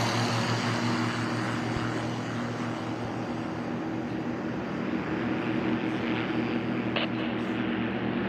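STOL drag race propeller planes, including a Zenith Tri-Gear, taking off; a steady loud droning engine and propeller roar holding throughout, close by.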